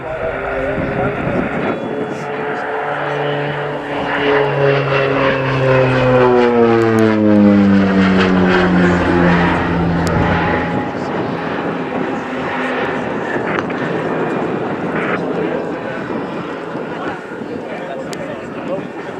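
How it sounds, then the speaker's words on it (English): A North American Rockwell OV-10 Bronco propeller aircraft performs an airshow display at Scampton, its engine drone rising and falling in pitch as it sweeps past, loud and sustained, with a commentator talking over it throughout. "here we see the agility demonstrated of the North American Rockwell Bronco"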